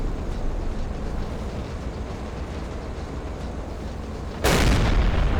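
A submarine deck gun fires at a target ship in Silent Hunter 3, one sudden loud boom near the end cutting through a steady low rumble of engine and sea noise.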